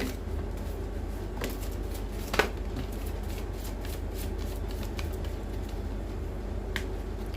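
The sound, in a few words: shuffling tarot cards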